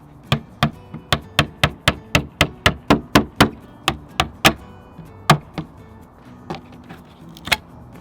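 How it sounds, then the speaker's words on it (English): A mallet strikes a putty knife being driven under a nailed and glued board on a farmhouse sofa table to pry it off: a rapid run of about fifteen sharp, close, evenly spaced knocks, then a few scattered slower blows. "I'm just using a putty knife and a mallet to try to pry it off."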